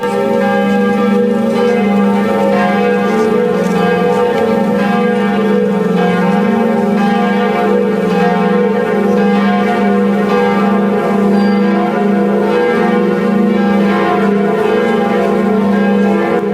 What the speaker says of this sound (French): La cloche du Vatican sonne 88 fois